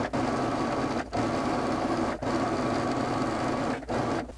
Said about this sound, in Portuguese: vou dobrar tudo ao meio e vou costurar na bordinha